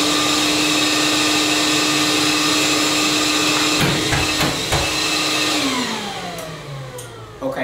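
A Festool or Dewalt dust extractor runs at full power, a loud steady whining roar with a few sharp clicks, then winds down with a falling pitch toward the end.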